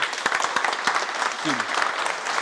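A high school football team claps in unison after a pregame speech, sharp hand claps bursting in a quick uneven rhythm close by, with a voice calling out briefly over them.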